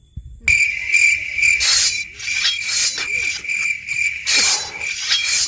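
Insects in a jungle setting chirp in a continuous high, steady trill, with faint quieter rustles underneath and no talk.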